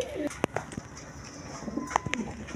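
A pair of pigeons, a Gorra cock and a Basiraj hen, coo softly with a few brief calls and sharp clicks over a quiet background, with faint voices nearby.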